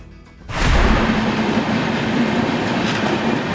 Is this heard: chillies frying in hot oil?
no